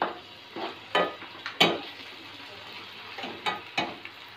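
Ginger garlic paste and tomatoes cooking in a pan: a faint sizzle broken by several close scraping stirs and clinks of a utensil against the pan.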